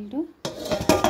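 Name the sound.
knife cutting banana flower on a board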